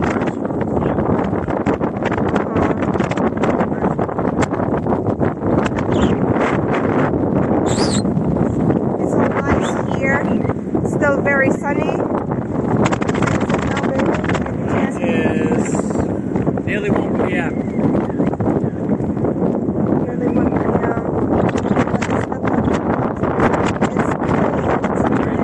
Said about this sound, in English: Look how strong the wind is.